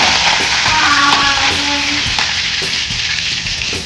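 Cumin seeds dropped into hot oil for a drumstick flower bhaji crackle and sizzle loudly and steadily up close, with a little stirring underneath.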